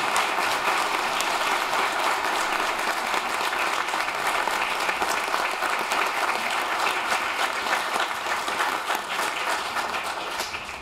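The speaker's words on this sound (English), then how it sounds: "If you'd like to give them a hand of applause." An audience at the City of Brockton's 2020 inauguration ceremony applauds the newly sworn council and school committee, with sustained, dense clapping from a large crowd that fades slightly at the end.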